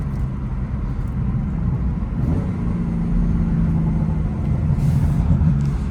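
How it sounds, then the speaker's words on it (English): A BMW M3 Competition F80 exhaust burbles under a steady low engine rumble while driving, a mild, continuous drone with slight rises in level, loud and close, with no talking. "It's burbling a little bit, but it's not like the full-on burble tunes that you usually see these cars with."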